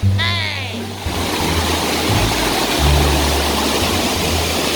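Waterfall in Attapeu, southern Laos: loud, dense rushing water roars steadily throughout, with a voice briefly heard at the start.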